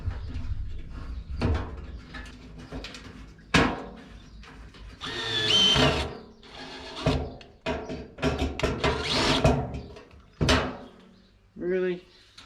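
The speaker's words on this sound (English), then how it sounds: "start chucking some screws in here and see how everything lines up" Screws are driven into a custom-built vehicle console in a workshop: short whirring bursts mixed with wooden knocks and clunks, close by, with a person talking in between.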